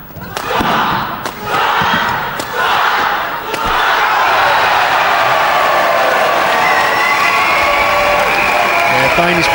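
Crowd at a 2005 badminton men's doubles final cheering and applauding, with rhythmic thudding claps early, then a sustained roar that swells loudly, under a commentator's voice.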